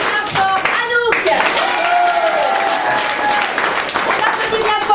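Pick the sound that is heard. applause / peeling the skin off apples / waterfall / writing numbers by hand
applause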